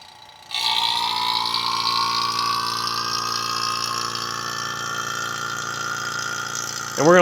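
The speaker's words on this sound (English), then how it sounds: "Turn the pump on," A vacuum pump for recovering car AC refrigerant at home kicks on after a moment of quiet and settles into a loud, steady droning hum that runs unbroken, with a brief rougher burst right at the end.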